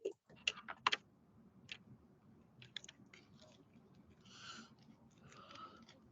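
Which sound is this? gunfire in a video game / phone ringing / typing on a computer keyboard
typing on a computer keyboard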